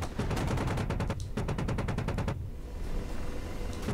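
Rapid bursts of Apache helicopter cannon fire in the DCS AH-64D combat flight simulator, two long, loud, steady strings of shots separated by a short gap, then a rumbling tail.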